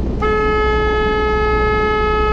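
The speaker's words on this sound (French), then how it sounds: "Et on fait les signaux de brume." A boat's fog signal horn sounds while the vessel approaches the Grande Baie Saint-Nicolas, one loud, steady, sustained blast that starts abruptly and holds, close and dominant.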